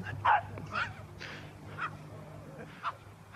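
A dog barks and yips in short bursts, about five separate calls spaced irregularly over a low steady background hum, fairly close and clear.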